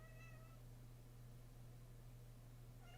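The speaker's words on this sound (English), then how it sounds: "What is this cat doing" A cat meows softly and faintly at the start and again near the end, two brief cries over a steady low electrical hum and noise, with no talking.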